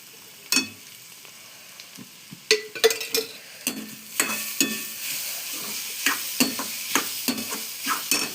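Grated carrots with cardamom stir-fried in a pan for a Marathi carrot dessert, a spoon scraping and clinking in quick uneven strokes over a soft sizzle, close and fairly loud.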